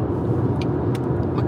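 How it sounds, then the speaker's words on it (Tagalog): Steady road traffic from cars rumbling nearby, a continuous low engine and tyre drone with no breaks, in a busy street setting. "Okay, makisiksik tayo sa traffic."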